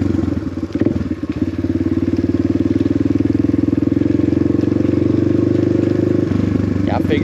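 Motorcycle engines rumble steadily and loudly along a back road, a continuous close drone with a rough, clattering edge that holds nearly the whole time before dropping off near the end.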